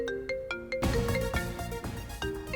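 A telephone ringtone plays as a string of short, bright electronic tones, clear and close, then swells into a fuller melodic jingle.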